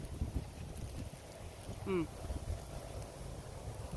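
Strong wind after Typhoon Leon buffets the microphone outdoors in a steady low rumble with gusty swells, close and continuous, while a brief voice cuts in near the middle.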